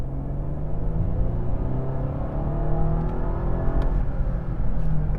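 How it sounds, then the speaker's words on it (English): A 2022 Bentley Flying Spur Hybrid accelerating in hybrid mode, its engine and electric drive together giving a steady, rising rumble and whir from inside the cabin, continuous and fairly loud throughout with no talking. "So we'll switch into hybrid mode now, which is both systems working in tandem."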